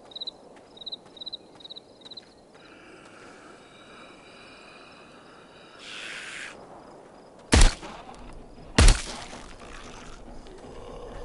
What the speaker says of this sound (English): Two shots instead of one.